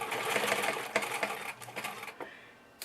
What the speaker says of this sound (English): You're going to sew straight